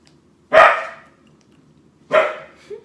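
A pet dog named Gummy barks twice indoors, loud and close, each bark short and sharp with a pause of over a second between them and near silence around.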